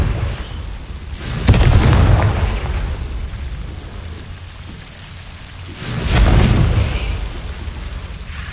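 Two deep, rumbling booms of a Confringo fire spell blasting in Hogwarts Legacy, each swelling loud and then rolling away in a long, noisy tail under a steady hiss.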